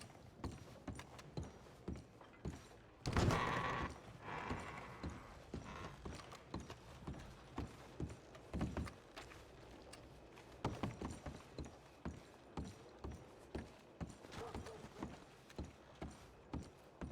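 A horse's hooves clip-clop steadily on the ground in the video game Red Dead Redemption 2, a regular near rhythm running throughout, with a brief louder clatter early on and a few other faint thuds mixed in.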